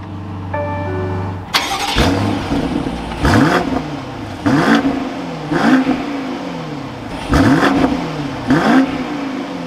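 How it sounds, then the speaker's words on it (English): A 2023 BMW X5 M50i engine cranks and catches with a loud start, then settles into a steady idle punctuated by several sharp revs at regular intervals. "Let's fire this M50i back up."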